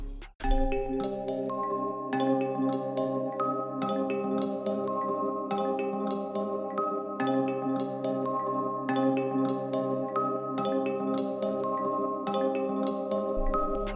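A dark ambient flute sample plays alone, sustained tones wobbling with tape-style pitch drift, echoing repeats and gated cuts that chop the phrases into regular pulses over about fourteen seconds.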